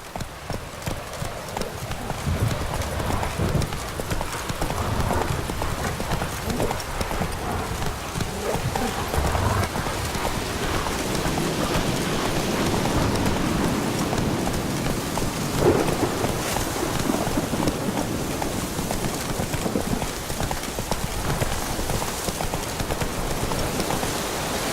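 Hooves of Geralt's horse Roach clopping steadily on wet ground in The Witcher 3, under heavy continuous rain with rumbling thunder, a brief voice heard over the storm.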